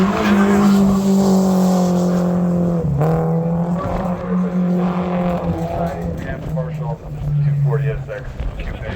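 A KA-powered Nissan 240SX coupe drifts at a circuit drift series event and loses grip coming out of a turn. Its engine drones loud and close with a steady, wavering pitch while the tires squeal continuously.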